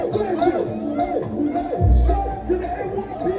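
Crowd at the West Indian parade on Eastern Parkway in Brooklyn, a loud, steady roar of many voices and shouting mixed with music from a Haitian band, close and continuous.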